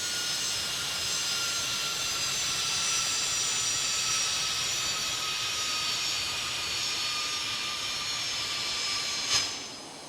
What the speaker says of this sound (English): here comes another arrival, another Embraer 175 coming from LAX, Los Angeles, California.